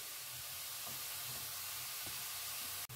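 Halwa mixture frying in a pan, a soft continuous sizzle with faint stirring scrapes, ending in a sudden click.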